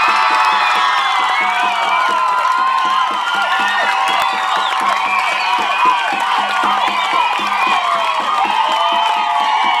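Large crowd at a village New Year's Eve contest cheering, whooping and clapping, with excited shouts and children's voices layered over continuous applause.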